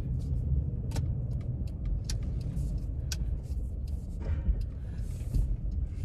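Interior of a blue 2.0 S Subaru BRZ, an early-model used car with a six-speed manual and 97,600 km, driving on a test drive, with steady low engine and road rumble and a few faint clicks.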